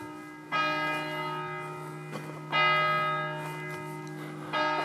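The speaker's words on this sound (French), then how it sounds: "si la cloche sonne, à chaque fois, c'est qu'elle sonne chaque heure" A church bell rings the hour at a site of abandoned cars, three resonant strikes about two seconds apart, each with a long ringing decay, clear and unaccompanied by talk.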